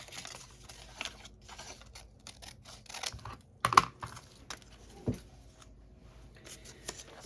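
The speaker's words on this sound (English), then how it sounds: "I'm just going to cut along the folded part so that's going to be my flap" Scissors cutting along the fold of a piece of paper to make a flap, with soft snips, rustles and crinkles in quick irregular bursts, close and fairly quiet.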